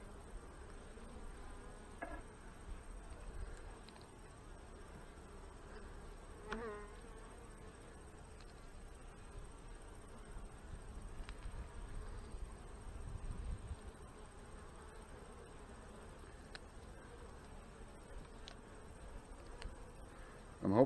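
Honey bees hum steadily around an opened hive during an inspection of a newspaper-combined colony, a soft continuous drone with occasional louder passes near the microphone throughout.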